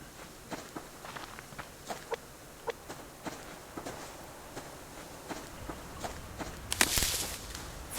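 A chicken in the survival game Subsistence clucks in short, repeated bursts among soft footsteps, fairly quiet against outdoor ambience, with a louder rustle near the end.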